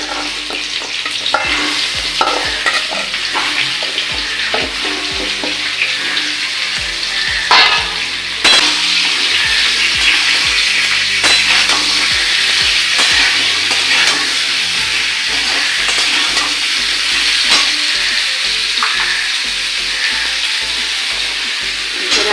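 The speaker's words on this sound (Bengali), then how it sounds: "5 ফোড়ন, শুকনো লঙ্কা আর তেজপাতা আমি একটা দিয়ে দিলাম এর মধ্যে।" Panch phoron, dried chilli and bay leaf frying in oil, a bright continuous sizzle with frequent scraping stirs from a spoon in the pan, close and steady throughout.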